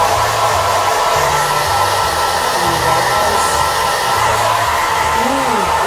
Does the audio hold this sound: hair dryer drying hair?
yes